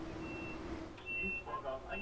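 Train door closing warning beeps on an ICE 3 class 403 in Train Sim World 4 sound in short tones over a low rumbling hum, followed by a quick sequence of higher chime-like notes.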